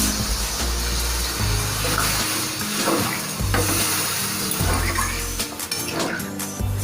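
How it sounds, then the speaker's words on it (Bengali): Water poured into sizzling chicken curry in a pan gives a loud, steady frying hiss with bubbling and occasional spoon clinks as the liquid hits the hot meat, sustained close throughout. "এরপর আমি দিয়ে দিচ্ছি জল।"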